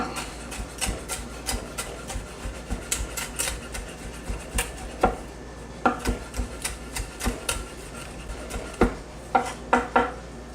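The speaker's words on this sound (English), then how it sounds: "we're just going to give this just a quick chop" A knife chops roasted garlic on a cutting board in a home kitchen, giving a close, steady run of sharp taps and knocks in an uneven rhythm, with no talking.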